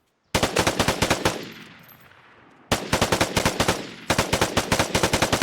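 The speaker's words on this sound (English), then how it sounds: "I'm just kind of burst firing this because obviously that's how you get a little bit more accuracy." A machine gun in the Vigor video game fires three short, controlled bursts of rapid, loud, evenly spaced shots, with a fading tail after the first burst.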